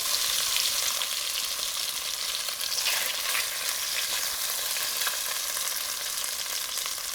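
Beef tenderloin sears in a cast iron pan for a stew, giving a steady, close, loud sizzle and crackle that holds evenly throughout with no voices.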